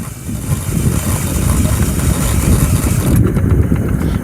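An electric drill powering a homemade ebike motor whines and rumbles steadily as the lifted rear wheel spins freely, its pitch and roughness shifting slightly as the gears are changed.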